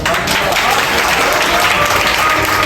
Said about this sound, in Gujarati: જોરદાર તાળીથી આપણે વધાવીએ.